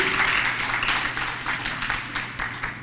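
A church congregation at a Sabbath service breaks into applause, a busy wash of clapping hands over a low background hum, steady and moderately loud throughout.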